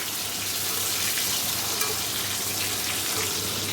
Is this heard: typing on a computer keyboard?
no